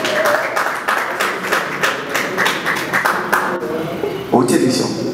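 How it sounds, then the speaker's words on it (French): An audience claps at an awards ceremony, a dense patter of applause that runs under a speaking voice and thins out toward the end. "Applaudissez pour Pierre."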